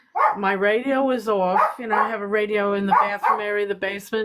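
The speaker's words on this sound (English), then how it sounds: "You can hear my dog barking." A dog barks in a basement, its barks mostly buried under a man's steady, continuous talking close to the microphone.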